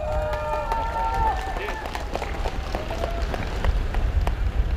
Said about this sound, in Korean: 우리 두 분께 뜨거운 박수 부탁드리겠습니다